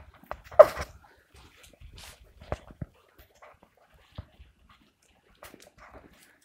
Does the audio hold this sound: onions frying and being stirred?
no